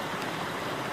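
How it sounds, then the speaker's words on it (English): Silver Brook in Warner, New Hampshire flows in a steady, full rush of water, a constant broadband babble close by with no voices. "I'm down by the brook in Warner, New Hampshire, Silver Brook"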